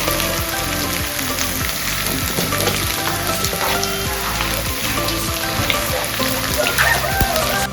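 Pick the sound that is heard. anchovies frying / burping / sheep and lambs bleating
anchovies frying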